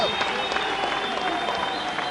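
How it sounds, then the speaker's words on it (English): Dense, steady applause from an arena crowd saluting a kickboxing fighter after a bout, a continuous wash of clapping with a tonal hum running beneath and no clear voices. "give this man a round of applause"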